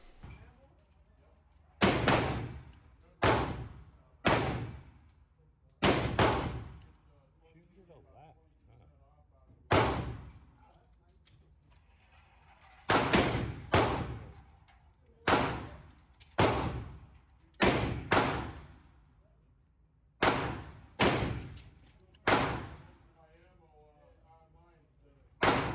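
Colt Python Royal Blue .357 Magnum revolver fired at a shooting range: about fifteen loud, sharp reports in spaced pairs and small clusters, each with a brief decaying tail, with faint low background between shots.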